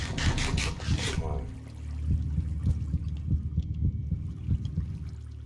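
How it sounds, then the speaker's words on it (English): Heartbeat sound effect from the video game Decked Out 2, a steady, fairly quick low double thump repeating throughout, following a brief burst of other game noise at the start. "Will the heartbeat go down?"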